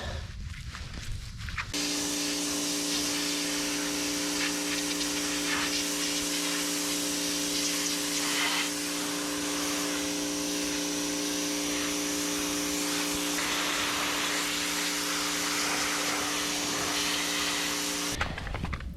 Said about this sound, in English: We're just going to go ahead and see what the power washer can do for this thing as it is.